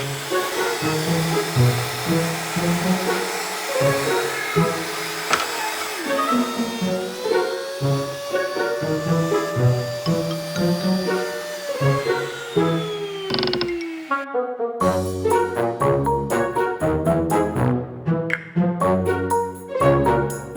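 A router fitted with a bearing-guided bit plunges into wood and cuts, giving a loud, sustained high-pitched whine that shifts in pitch as it bites, then changes to choppier, interrupted cutting toward the end, with no talking.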